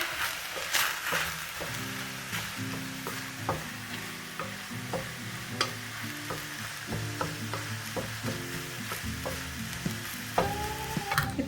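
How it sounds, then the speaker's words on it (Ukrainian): Chopped onion fries in a pan for crucian carp in sour cream, stirred steadily with a spoon that scrapes and clinks in an irregular rhythm over a close, continuous sizzle. "Вмішуємо цибульку, щоб не пригоріла."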